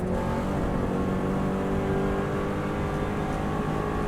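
A Subaru WRX STI at full throttle on the Isle of Man TT road course, a loud, sustained engine drone with a steady whirring tone and wind rush, running continuously without a break and with no talk.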